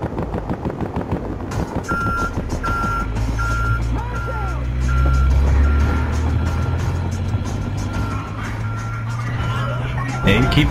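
Truck reversing beeps from Battlefield Hardline, a steady repeating electronic tone over a loud rumbling engine, with shouted voices and game effects around it.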